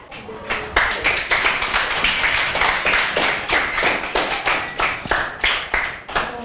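An audience gives a child steady applause after a recited poem, a continuous patter of many hands clapping at moderate loudness throughout, with a slight rhythmic pulse.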